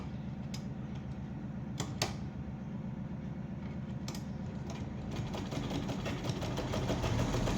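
Sewing machine stitching the seam of palazzo pants, running at a steady fast ticking rhythm with a few sharp clicks, near and fairly quiet, picking up slightly toward the end.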